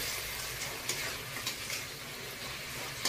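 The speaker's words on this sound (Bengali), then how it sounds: "এবার আমি চিংড়ি মাছগুলো দিচ্ছি। চিংড়ি মাছগুলো দিয়ে একটু কষিয়ে নিই" Prawns sautéing in a pan for prawn malai curry give a steady close-up sizzle, with occasional scraping stirs breaking through the hiss; no one speaks.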